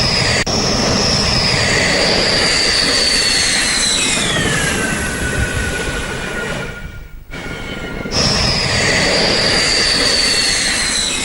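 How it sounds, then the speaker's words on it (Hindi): Rafale fighter jets land at Ambala airbase, one after another, with a loud continuous roar and whining engine tones that sweep downward, dip briefly, then surge again. "एक के बाद एक 5 राफेल फाइटर जेट्स ने अंबाला एयरबेस पर लैंडिंग की, अपनी गर्जना सुनाई"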